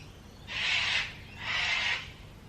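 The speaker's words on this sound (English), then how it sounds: "Cockatoos." Cockatoos call outdoors in two loud, harsh screeches of about half a second each, separated by a brief pause, heard fairly near over a quiet background.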